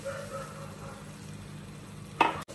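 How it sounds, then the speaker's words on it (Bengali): Bhindi masala stir-frying in a pan just after water goes in, a low steady sizzle with a brief brighter hiss near the end. "এখন একটু জল দিয়ে কষাবো।"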